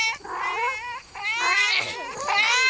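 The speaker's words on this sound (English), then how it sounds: "Meow." Cartoonish cat meows from nextbot cats chasing in a video game, several drawn-out wavering calls following one another in quick succession, loud and close.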